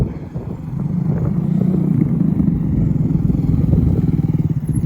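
Motorcycle engine during a wheelie attempt, a loud, close rumbling drone with pulsing throttle changes and rattly mechanical clatter, holding steady before revving more rhythmically toward the end, with no voices.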